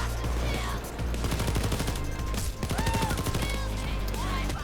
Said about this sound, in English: for a weapon like this, an assault rifle that doesn't take any skills, it's really good for Death Wish